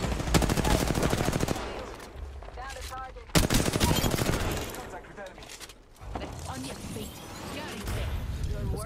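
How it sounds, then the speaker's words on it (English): Gunfire in a video game, dense rapid bursts of automatic shots that stop and start, loud and close, with people talking over it. "Mark, I'm taking fire."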